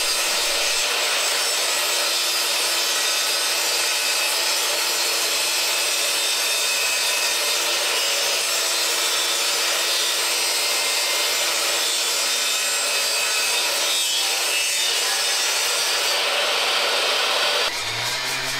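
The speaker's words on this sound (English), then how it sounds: "I'm putting a very shallow groove in the piece of oak" Power tool cutting a very shallow groove along a piece of oak for a display case, a steady broadband whine and rasp that runs continuously and close for most of the stretch, stopping near the end.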